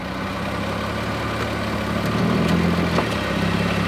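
An old car's engine idles steadily with a low, constant rumble and vibration, the tone thickening slightly as the transmission is shifted into drive.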